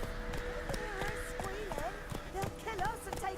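Roach the horse gallops in The Witcher 3 with rapid, steady clip-clop hoofbeats kept up throughout, close and clear, while short bursts of voiced talk and shouting sit over the hooves.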